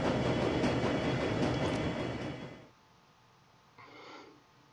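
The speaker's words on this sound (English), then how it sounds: "It's a short train ride to Gessenbrunnen." Train ride in the video game Shadowrun: Dragonfall, a loud rumbling rail roar with rhythmic clatter that fades out abruptly, followed by a brief softer whoosh near the end.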